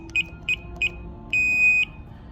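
A PG-308 alarm panel being armed gives three short, evenly spaced high beeps, then one long sustained tone, crisp and close with no voices.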